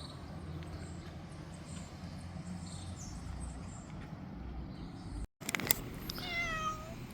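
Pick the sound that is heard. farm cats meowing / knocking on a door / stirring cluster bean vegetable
farm cats meowing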